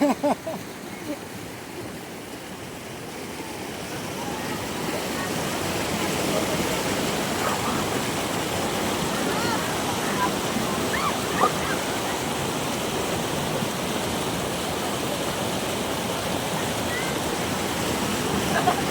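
Strong current of a river rushing steadily, a loud, continuous broadband roar of churning water up close, with faint voices mixed underneath.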